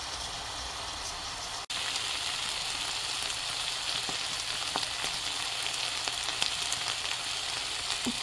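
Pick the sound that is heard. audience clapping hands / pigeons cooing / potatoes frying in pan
potatoes frying in pan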